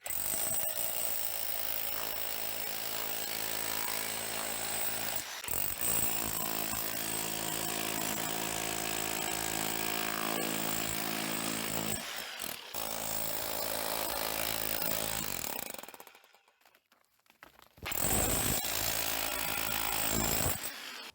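Loud, continuous hammering roar of a Ronix 2741 rotary hammer drill breaking concrete, with brief pauses, then a near-silent gap before the drilling resumes.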